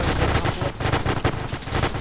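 Rapid automatic gunfire in a WW2 Battle of Tarawa video game, dense bursts of shots crackling continuously for a couple of seconds at close range, loud and without speech.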